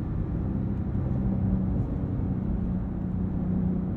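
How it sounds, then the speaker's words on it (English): Flat-six engine of a Porsche 911 Sport Classic while driving, a steady, muted low rumble with road and cabin noise and no sharp revs. "One thing I wish I heard more of was that flat six."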